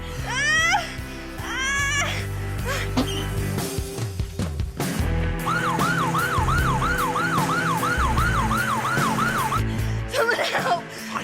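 Ambulance siren wailing in repeated rising-falling sweeps, growing louder and steadier as it draws near, with a few brief cries and commotion underneath.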